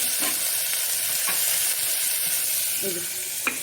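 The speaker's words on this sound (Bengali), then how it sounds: "সব সবজি দিয়ে দিচ্ছি, এর মধ্যে নাড়াচাড়া করতে একটু। এবার আদাটাও দিয়ে দিলাম আমি" Vegetables and ginger sizzle steadily in a hot frying pan while being stirred for chicken soup, with occasional soft scrapes and clicks of a utensil over a constant frying hiss.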